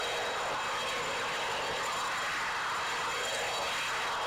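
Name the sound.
helicopter engine in Microsoft Flight Simulator X video game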